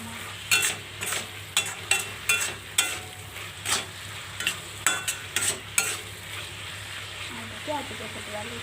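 A spoon scrapes and stirs a chickpea mixture seasoned with garam masala in a frying pan, sharp repeated clacks against the metal over a steady sizzle, close and distinct, fading to quieter frying at the end.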